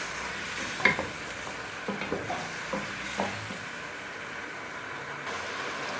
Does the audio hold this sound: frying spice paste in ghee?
yes